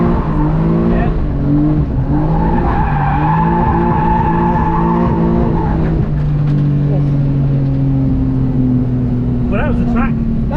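A budget car drifts around a track, its engine droning steadily and tires squealing in long sustained wails, with voices talking over it.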